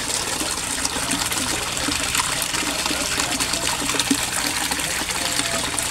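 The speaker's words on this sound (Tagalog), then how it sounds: "Sa sobrang lakas niya, ang daming bubbles na produce niya or na-create niya." A Rizan aerator pump churns water in a koi fish pond, producing a steady, close, rushing bubble and gurgle that runs without pause and without talking.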